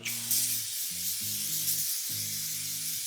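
Scotchgard fabric protector sprayed onto a sofa indoors: a steady, close, broadband hiss lasting about three seconds, with faint low tones in the background.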